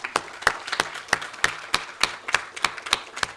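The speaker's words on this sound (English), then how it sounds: "Can I have a round of applause for him, please?" Sparse, rhythmic hand claps from a small audience at an anniversary panel discussion, a dozen or so distinct claps spaced evenly, moderately close and fairly quiet, with no voices.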